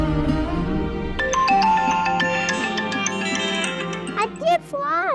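A phone ringtone plays as a melodic chiming tune of repeated tonal notes over background music in a domestic TV drama scene, with a voice briefly audible near the end.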